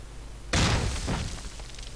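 A single heavy blast of an anti-tank gun firing in the World War II strategy game Close Combat Cross of Iron, a sudden loud boom that rolls off into a long rumbling tail, with no talk over it.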